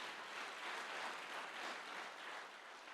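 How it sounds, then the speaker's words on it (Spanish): A church congregation applauds together, a steady, dense wash of clapping that holds evenly for a few seconds at moderate distance with no voices over it. "La iglesia le da un aplauso a nuestros hermanos"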